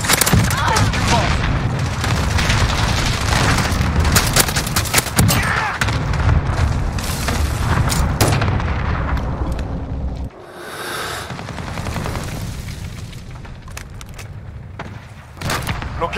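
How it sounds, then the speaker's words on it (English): Cluster strike explosions in Call of Duty Modern Warfare Headquarters multiplayer, a dense rumbling barrage of booms and gunfire that runs continuously for about ten seconds, drops to a quieter lull, then flares up again with a late burst. "Friendly cluster strike inbound."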